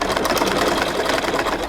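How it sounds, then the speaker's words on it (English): A sewing machine runs steadily while stitching a pocket on native trousers, a rapid continuous whirring chatter close by, without pause. "Make sure the sewing machine is actually on the edges of your folding"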